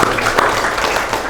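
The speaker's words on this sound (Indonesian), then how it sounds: "Tepuk tangan." Students applaud a classmate in a classroom lesson: a brief, dense patter of many hands clapping, close and fairly loud, cut short after about a second.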